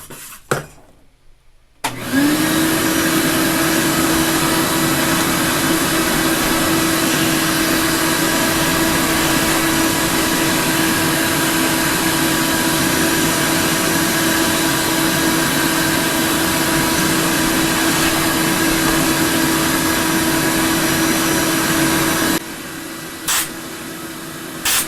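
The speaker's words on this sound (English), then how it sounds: "let's go ahead and take the vacuum cleaner and vacuum out what we can" A vacuum cleaner switches on and runs with a loud, steady whine for over twenty seconds before cutting off, used to clean out a ceramic tower heater.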